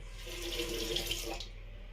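A shaving brush dips under a running tap, giving a steady hiss of splashing water that lasts about two seconds, fairly quiet and close, with no voices.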